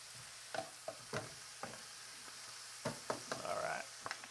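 Philly cheesesteak meat fries in oil in a home frying pan, a quiet steady sizzle broken by scattered scrapes and taps of a utensil stirring the meat, close and fairly faint.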